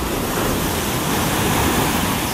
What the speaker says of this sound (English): Waves are huge. Wow. That one just crashed behind me.